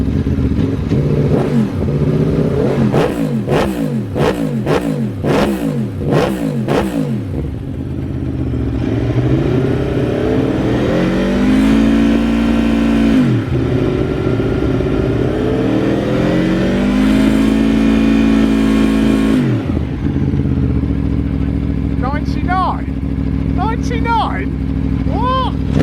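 An Aprilia Tuono motorcycle engine blips in a burst of quick revs, then holds longer rising and falling revs through an exhaust test. A clattering idle runs underneath, and people talk nearby.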